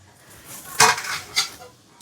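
A cooked batti is lifted out of a pan, with two quick metallic clinks and scrapes of utensil against cookware, close and clear in a quiet kitchen.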